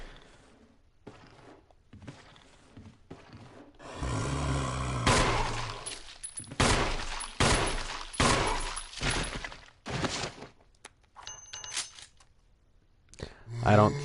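Gunfire aimed at a zombie in the survival horror game Resident Evil Remake, with loud bursts of shots between about four and eleven seconds, separated by quieter stretches of footsteps and faint game ambience.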